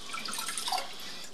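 Tap water running and splashing while rice is rinsed in a bowl or sink, a steady close trickle with light drips, no voices.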